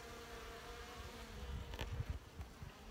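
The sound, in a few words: honey bees buzzing around a hive during feeding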